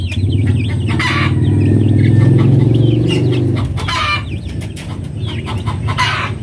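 Modern Darag hens clucking close by, a dense chorus of repeated clucks and calls with birds chirping behind, loud and continuous.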